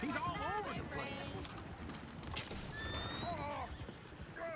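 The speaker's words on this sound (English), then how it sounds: "Oh, shit, the horses! Damn horses!" Horses pulling a coach in Red Dead Redemption 2 neigh repeatedly and clatter their hooves at a steady gallop, close and fairly loud, with excited talking over the top.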